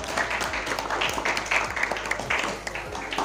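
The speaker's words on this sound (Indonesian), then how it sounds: "Tepuk tangan untuk kita semua" Audience applause at the closing of a school orientation event (MATSAMA) at MTs Al Mahalli, a steady wash of clapping with some voices mixed in, moderately loud and sustained before tapering near the end.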